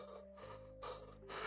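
A voice imitates heavy, ragged panting, a few breathy gasps rising louder toward the end, close and alone.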